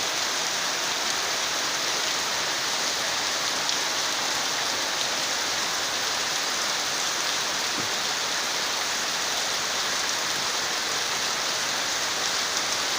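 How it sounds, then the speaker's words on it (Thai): Steady rain falling on an evening with mist, a continuous dense hiss of drops on surfaces, fairly close and even throughout with no voices. "เพราะว่าช่วงนี้ฝนมันตก"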